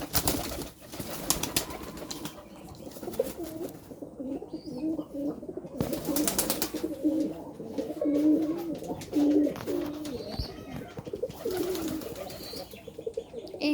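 Pigeons cooing and squabbling close by, with low repeated coos and bursts of wing-flapping and scuffling among the birds.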